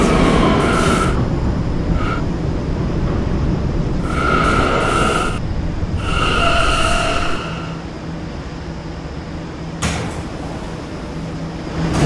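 An R179 subway train runs in a Roblox game, a loud steady rumble of wheels on track with bursts of high tonal chimes and door sounds rising and falling over it.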